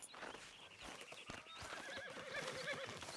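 A horse in the video game Red Dead Redemption 2 whinnies with a rising, wavering neigh over steady background noise, accompanied by soft hoof clip-clops, moderately close.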